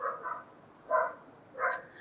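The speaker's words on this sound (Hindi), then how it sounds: "भौंकने दो उसको, ठीक है।" A dog barking outside a window during a chemistry lesson, with three faint, distant barks spaced apart against quiet room tone and no talk.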